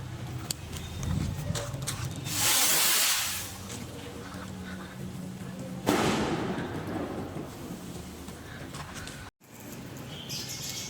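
Eye of the Eagle fireworks from Diamond Fireworks, distributed by SRC Fireworks, go off during a Christmas celebration: a loud hissing, crackling burst, then a sharp bang that trails into fizzing and crackle, with people faintly audible nearby.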